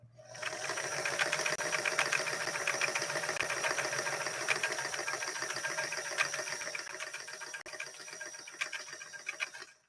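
Singer 328K sewing machine running a mountain stitch pattern, a close, steady rapid mechanical whir with fast ticking needle strokes that continues almost unbroken and tapers off at the end.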